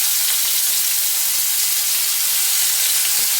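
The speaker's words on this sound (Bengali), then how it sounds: "দেখো তেলটা গরম হয়ে গেছে, এর মধ্যে আমি দিয়ে দেবো পেঁয়াজ আদা রসুনের পেস্ট" Onion, ginger and garlic paste fries in hot mustard oil with a loud, close, continuous sizzle and hiss that holds steady throughout.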